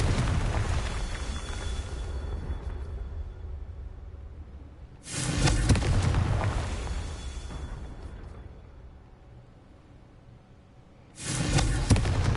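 In the Hogwarts Legacy video game, two Confringo fire blast spells go off, each a sudden roaring burst that decays slowly, over a continuous low rumbling background.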